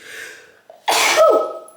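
A single sharp sneeze bursts out after a short breath in, close and loud.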